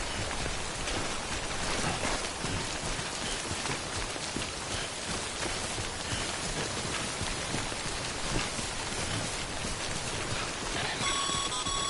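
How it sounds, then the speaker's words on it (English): Steady heavy rainfall of timefall in the video game Death Stranding hisses without a break, dense and even throughout, with a faint electronic beeping tone near the end. "Don't stay out in the rain any longer than you have to."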